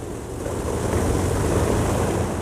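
A deep, steady roar of an Avro Lancaster bomber's piston engine starting up, loud and broad, building slightly and holding without any voices.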